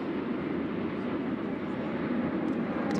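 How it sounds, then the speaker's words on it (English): A fixed-wing airplane passes over a professional softball game, its broad steady engine roar filling the air at moderate loudness with no talk in between. "Some of these planes are louder than the others, don't you think?"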